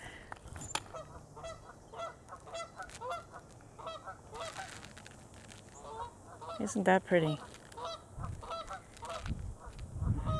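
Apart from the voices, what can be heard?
Canada geese honking at a breeding ground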